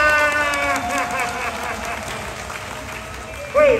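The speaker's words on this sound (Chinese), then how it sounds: "现场来宾，掌声在哪里？" An audience claps at the Hualien Pacific Lantern Festival in 2022. Moderate applause runs throughout, with a host's voice over it and a sharp cry near the end.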